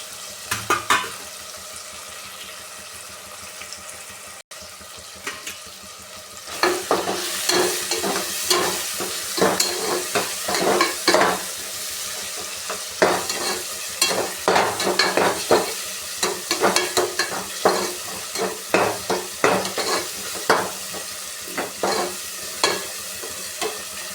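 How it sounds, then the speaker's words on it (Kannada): Masala for a wedding-style cabbage palya sizzling in a pan, faint at first and then stirred with repeated scraping strokes over steady frying, loud and close, no talk. "ಚೆನ್ನಾಗಿ ಫ್ರೈ ಆಗಲಿ"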